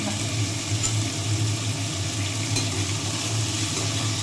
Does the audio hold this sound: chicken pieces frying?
yes